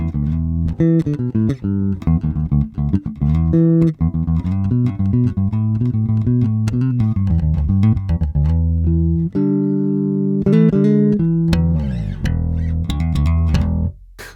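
A Bacchus bass guitar fitted with EMG Riptide pickups and a BTC preamp plays a busy, punchy line of plucked notes, loud and continuous for about fourteen seconds with no talking.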